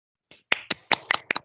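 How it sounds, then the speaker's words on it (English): Several scattered claps from students over open microphones on an online class call, about six sharp separate hits spread across a second and a half, close and fairly loud with no talk. "Open your mics and clap for her."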